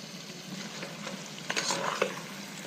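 Curd is stirred into cooked mutton with salt in a hot pan, giving a soft continuous sizzle with a few louder scraping stirs near the end, close up and without speech.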